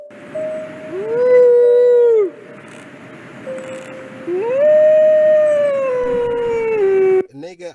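Two friends howl like wolves in sustained, rising and falling voiced cries, one after another with a short pause between, fairly loud over a steady outdoor background hum, human voices imitating wolves during a wolf encounter.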